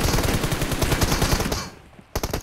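Rapid automatic gunfire in a competitive shooter match, a fast loud rattling burst that cuts out into a brief lull before another short volley resumes.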